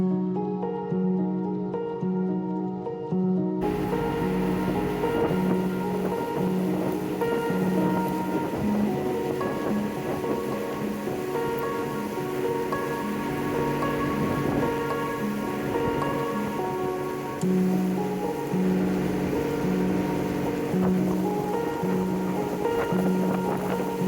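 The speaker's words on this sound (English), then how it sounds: "The only way to reach the national park is by boat." Water taxi motorboat carrying passengers across open water to Bako National Park in Borneo, a steady loud engine drone with wind buffeting and water rush running throughout, no voices.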